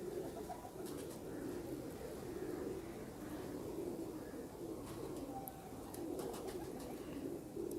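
Golden 222 breed pigeons coo in a soft, continuous low murmur, a close flock cooing over and over with a few faint higher chirps and ticks.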